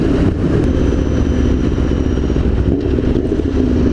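A motorcycle engine running hard at highway speed in sixth gear around 5,000–5,800 RPM, with a loud, steady drone and wind rush throughout and no talk.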